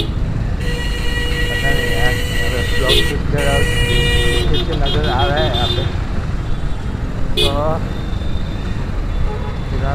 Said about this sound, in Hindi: फिलहाल गाड़ी बहुत जाम है यहाँ